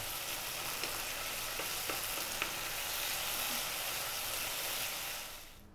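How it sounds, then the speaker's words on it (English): A cup of green onions fries over really high heat, giving a loud, steady sizzle with light stirring clicks before the sound fades out at the end. "We're going to drop in those green onions, a cup of green onions. And we're going to go just for 90 seconds, really high heat"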